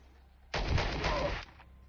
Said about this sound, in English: Let's fire at this guy.